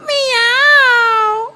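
A cat gives one long, loud, close meow that rises and falls in pitch before trailing off, heard alone without talk.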